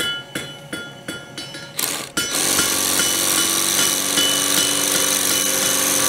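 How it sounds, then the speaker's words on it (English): A power drill revs in several short bursts, then runs continuously at a loud, steady whine as it bores into an old butcher's block. "I'll just bung drill down it."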